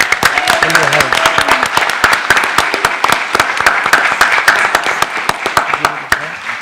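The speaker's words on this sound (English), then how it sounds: "So let's give Louis a round of applause." A crowd applauds at a school district board meeting to honor an employee's five-year anniversary, the sustained clapping filling the room with a steady patter of sharp hand claps.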